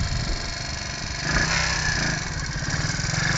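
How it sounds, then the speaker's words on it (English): A pit bike's small engine running and revving steadily outdoors, with a loud, continuous buzzing drone that rises slightly in pitch midway. "You don't hold the clutch in while you kickstart it, Perry."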